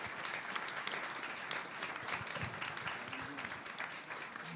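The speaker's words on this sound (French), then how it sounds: "merci, vous pouvez applaudir, oui" Audience at an evening lecture applauding steadily, a dense continuous patter of many hands at moderate distance with faint voices mixed underneath throughout.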